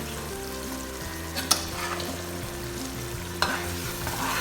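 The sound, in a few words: peppered snails frying and being stirred in a pan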